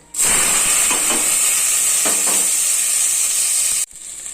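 Fennel seeds, onion, tomato and curry leaves fry in a couple of spoons of oil inside a pressure cooker, giving a loud, steady sizzling hiss that runs unbroken for several seconds before cutting off abruptly.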